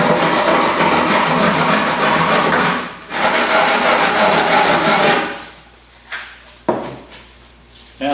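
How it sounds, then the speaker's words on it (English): Rubbing stone scraping along the edge of glass fiber reinforced concrete, a loud continuous gritty rasp in long strokes that pauses briefly, then fades into quieter intermittent scrapes. "If there's a lot to take off, you can use a rubbing stone. Just to neaten it up."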